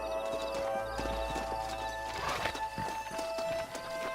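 Horses walk at a slow pace in the Red Dead Redemption western video game after their riders dismount, with steady, close clip-clop hoofbeats and a brief whinny in the middle.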